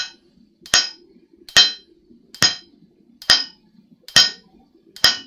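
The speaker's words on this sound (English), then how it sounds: "so I'm hammering a right-handed bevel in this." A smith hammers a right-handed bevel while forging a san mai deba knife: six evenly spaced, bright metallic clinks ring out at a steady rhythm, each decaying quickly, loud and close with no voice.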